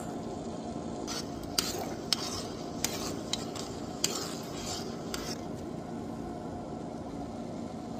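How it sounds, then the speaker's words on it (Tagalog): Milk goes into a pot of melting crushed gulaman gelatin and is stirred in, with a soft continuous simmering hiss and several irregular metallic clinks of a spoon against the pot. "Tunawin lang natin. Ayan, lagay lang natin ang ating milk."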